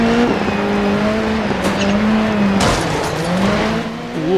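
A rally car in the DiRT 4 video game slides across gravel, its engine droning loud and close with a shifting pitch as the tires scrub and slip, sounding on its own.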